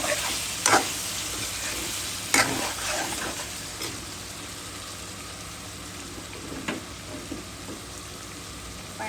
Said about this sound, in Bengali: টমেটোটা সিদ্ধ হতে একটু দেরি লাগে, তার জন্য একটু কষিয়ে নিব।